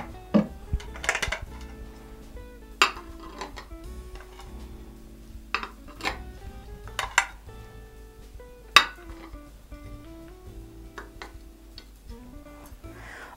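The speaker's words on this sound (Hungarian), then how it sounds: "Majd a lapos tányérokra a mély tányérokat fogom elhelyezni." Deep plates are set onto flat plates while a table is laid, giving sharp ceramic clinks and taps scattered across a quiet room, spaced a second or two apart.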